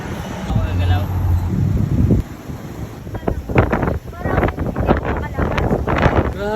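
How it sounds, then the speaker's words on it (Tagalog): Strong wind buffeting the microphone outdoors, a rough low rumble that gusts and fades throughout, with people talking over it. "Grabe, lakas ng hangin,"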